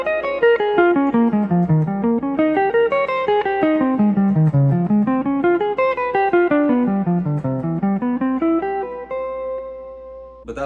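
Guitar arpeggios run up and down through a jazz chord progression at speed, a clean stream of rapid single notes rising and falling in repeated sweeps, close and alone, ending on a sustained chord.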